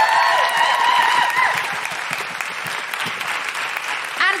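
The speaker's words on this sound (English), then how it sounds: "Can I have a huge round of applause for Josie, Jack and Cordelia?" A large comedy audience at the Edinburgh Fringe applauds loudly and steadily, dense clapping filling the whole stretch, with a few whistles or cheers early on.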